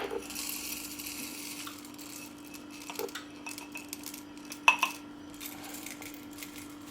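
Coffee beans are poured into a grinder set to 60 clicks, making a quiet scatter of small hard clicks and rattles with one sharper clatter near the end, without talking.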